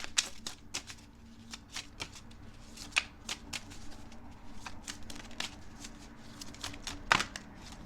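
Tarot cards are shuffled and drawn by hand, giving a quick run of soft, close riffling snaps and flicks in an uneven rhythm, with no voice over them.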